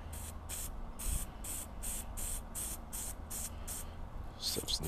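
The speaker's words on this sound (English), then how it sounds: "Let's go ahead and spray this on there." Old foam air filter oil sprayed from an aerosol can onto a dirt bike's foam filter, heard as a run of about nine short, loud hissing bursts in a steady rhythm, close by, with no talk.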